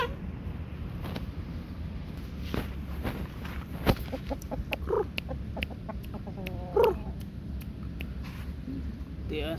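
Backyard roosters cluck and make short clucking calls amid faint ambient noise, with a few brief louder bursts standing out over a steady outdoor background.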